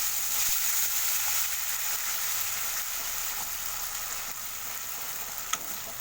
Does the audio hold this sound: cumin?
yes